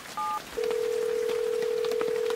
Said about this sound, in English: I whipped out my cell phone and punched in Amy's number.